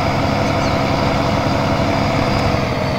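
A truck engine idles in Farming Simulator 19, a steady, loud, low diesel rumble that drones on unbroken with no talk over it.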